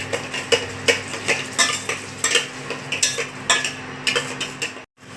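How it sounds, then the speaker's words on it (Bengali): A thick spice masala thinned with water simmers in a pan over a low flame for potato dum while a spoon scrapes and stirs it in steady, repeated strokes, close and fairly loud, ending with a short silence. "জল দিয়ে এটা লো ফ্লেমে আমি দিকে অনেকক্ষণ কষিয়ে নেবো, যতক্ষণ না মশলা থেকে তেল ছেড়ে আসছে"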